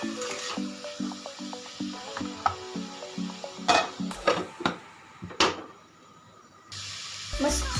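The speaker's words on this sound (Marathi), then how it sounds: "ठेचा आहे ना आपण मेथीच्या भाजीचा परतून घेऊया" Fenugreek leaf thecha being sautéed in a pan, with soft sizzling, rhythmic spatula scraping, and several sharp clinks of a utensil against metal, then a quieter stretch.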